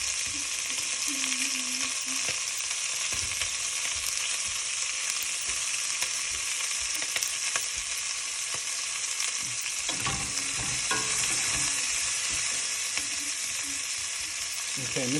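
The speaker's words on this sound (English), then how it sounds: "So we're just going to leave the onions alone for a minute and let them cook," Onions sizzle and fry steadily in a pot as the base for a beef stew, a constant close crackle with occasional stirring and utensil knocks, no talking.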